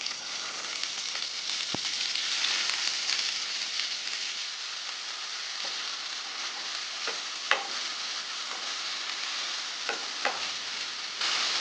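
Potato pieces fry in hot oil with mustard seeds, urad dal and curry leaves for a Tamil potato poriyal, giving a steady close sizzle with occasional stirring scrapes and small pops, and no talk.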